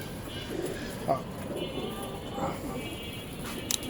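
Pigeons, among them a male bird kept in a loft, coo in soft, low murmurs with a few sharper bird calls and light taps scattered through the steady background.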